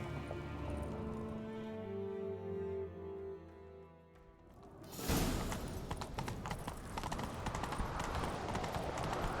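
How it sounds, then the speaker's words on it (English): Horse hooves in The Witcher 3 video game: a steady clip-clop of a galloping horse, close and moderately loud, that follows a sustained musical drone and continues to the end. "Grab a horse, we'll chase him down."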